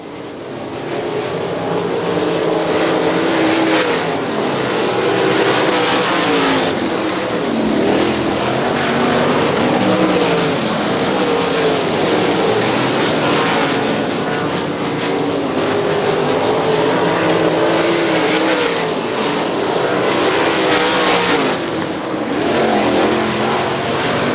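410 sprint cars race around the dirt track at Butler Battlegrounds, a loud, continuous engine roar rising and falling as the pack circles, steady and close for the whole stretch.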